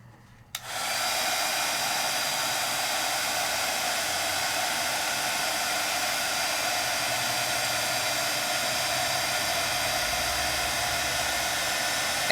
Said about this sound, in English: And I just start to heat set.